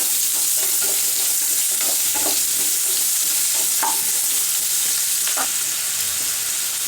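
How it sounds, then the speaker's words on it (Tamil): Potatoes and popped mustard seeds sizzle steadily in a hot oiled pan, with a spoon scraping and stirring through them in irregular strokes; the frying hiss stays loud and close throughout. "கடுகு நல்லா பொரிஞ்சதும் எடுத்து வச்சுக்கிற உருளைக்கிழங்கு போட்டு ஒரு தடவை நல்லா மிக்ஸ் பண்ணி விட்டுருங்க."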